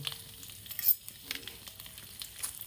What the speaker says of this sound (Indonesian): Terus kita lanjut gongseng atau goreng ya bumbunya tadi.